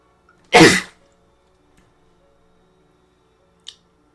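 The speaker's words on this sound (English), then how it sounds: "I gotta sneeze here." A single sharp sneeze from one person during a gaming livestream, loud and close, followed by near silence with a faint click a few seconds later.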